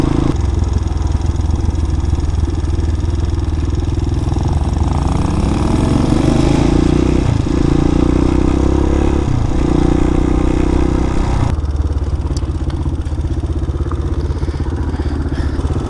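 A Honda Hawk 250 motorcycle rides along country back roads, its engine loud and close with a steady drone, rising and falling with throttle changes and gear shifts, plus wind noise.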